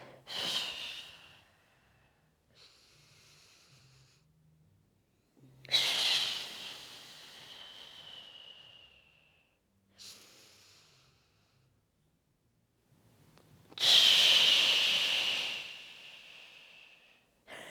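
Deep breaths drawn in and pushed out during a Pilates stretch, three strong airy exhalations with quieter inhales between, close and clear with no talking.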